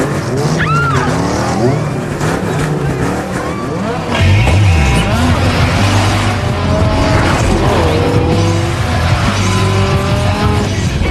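A Monte Carlo and a Dodge Viper race in a Tokyo Drift film scene, with close, loud engines revving up and down and tires squealing through repeated pitch sweeps.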